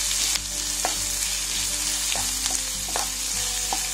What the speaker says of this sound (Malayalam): ഇനി അതിലേക്ക് ഈ സവോള ചേർക്കാം